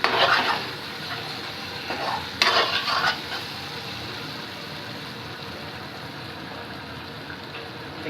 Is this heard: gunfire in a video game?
no